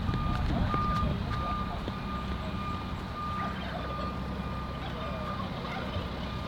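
A dump truck reverses nearby, its steady high backup beep repeating over a continuous low engine rumble and outdoor background noise.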